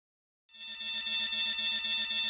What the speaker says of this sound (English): What? An alarm? What is it? What's going on?